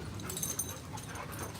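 A dog whimpers softly in short, faint whines and yips against a quiet background, with no talking.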